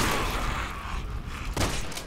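A burst of gunfire in Resident Evil 6 crackles at the start, fades, then a single sharp shot rings out near the end.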